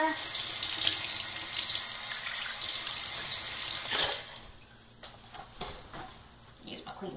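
A bathroom tap runs warm water at a sink for rinsing a face, a steady splashing stream for about four seconds, then scattered splashes and drips with brief quiet talk.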